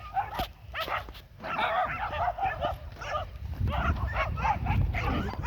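Several dogs snarl and bark in a fight: sharp, rapid yaps and yips overlapping in close, irregular bursts over a constant low rumble of background noise.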